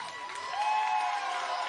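Basketball crowd cheering and applauding on senior day at a college game, a broad steady roar that swells slightly midway, heard at a distance.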